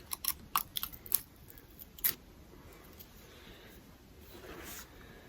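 A chisel cuts wood fibres while a mortice is made by hand. A burst of sharp, close taps and crisp cutting clicks comes first, then quieter work.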